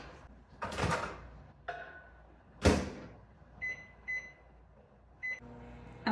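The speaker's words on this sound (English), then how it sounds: "I'm gonna go ahead and get my 1/2 stick of butter melted in the microwave." A microwave oven melts half a stick of butter, with a couple of loud door thumps and clunks early on, then short electronic beeps near the end.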